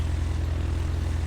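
Steady, even drone of a light propeller airplane engine in a flight simulator game, flying a route from Jackson Hole to Yellowstone, Wyoming, with a constant low hum that holds unchanged throughout.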